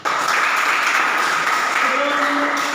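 Applause from students in an Indonesian classroom during a teaching practice lesson, a steady wash of clapping that stays even for a few seconds with faint voices underneath.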